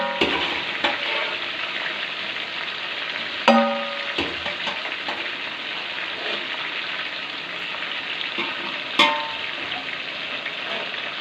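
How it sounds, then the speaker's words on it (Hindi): Beef and onions sizzle steadily in a pot, a continuous fry with a few sharp clanks of stirring throughout. "हमने प्याज़ों के साथ गोश्त को अच्छे से फ्राई करना है।"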